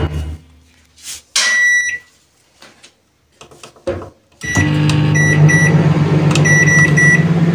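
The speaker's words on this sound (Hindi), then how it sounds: "ओवन चला" A microwave oven beeps a few times as its buttons are pressed, then switches on and runs with a loud, steady electric hum and occasional short beeps, close to the microphone.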